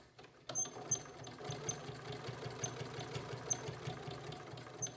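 A sewing machine stitches binding onto a quilt, starting abruptly and running steadily at slow, even speed with a soft rhythmic whir and light mechanical clatter, close by and fairly quiet.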